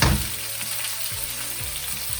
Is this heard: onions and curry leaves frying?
yes